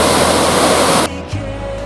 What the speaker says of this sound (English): at the 5th waterfall.